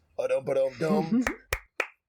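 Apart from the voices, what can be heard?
hand clapping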